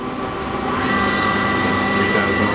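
Citizen M-16III Swiss-type CNC lathe, a 2005 machine, its main spindle running at 1,000 RPM with a steady, moderately loud mechanical hum and faint whine, unbroken throughout.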